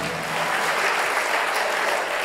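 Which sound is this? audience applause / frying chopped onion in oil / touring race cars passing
audience applause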